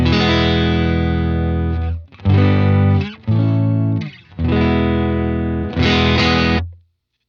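A Fender Stratocaster electric guitar played straight into an amp with slight break-up and no reverb, sounding a few sustained chords and phrases, dry and fairly loud, with no talk.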